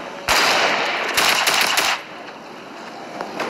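Rapid automatic gunfire in the video game Fortnite, a loud sustained burst that rattles for about a second and a half, then drops to a quieter background after a short second volley.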